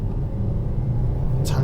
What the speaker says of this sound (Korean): 연료 잔량 확인을 위해서 한번 가속을 해보죠.